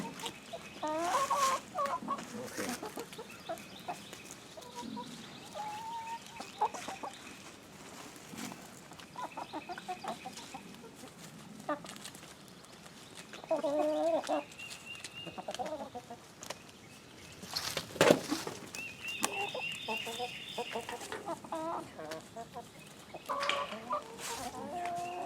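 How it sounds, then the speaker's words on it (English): Several chickens cluck and chatter on and off throughout, close by, with occasional louder squawks and light outdoor background noise. "Happy chickens."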